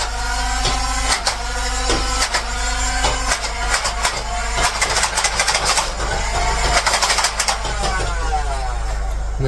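A Nerf N Series Sprinter blaster revving its motor and burst firing darts, a loud steady whirring hum punctuated by quick rhythmic clacks of darts being fired in short bursts, close up.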